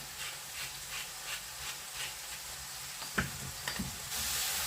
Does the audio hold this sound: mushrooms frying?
yes